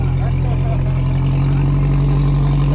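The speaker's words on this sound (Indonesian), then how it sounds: "Mesin sudah dinyalakan." A small passenger boat's engine runs for an inter-island crossing in Bengkayang, West Kalimantan, a loud steady low drone with a strong constant hum close by.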